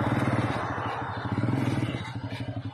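A homemade Thai modified three-wheeled vehicle from a garage in Chiang Rai drives along, its small engine chugging with a steady rapid pulsing thump, close and moderately loud, with no talk.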